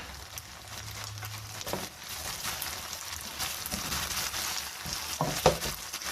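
Green onion whites stirred into a sizzling pan while cooking Chinese-style chicken biryani, with a steady background fry and occasional scraping and clinking of the spoon.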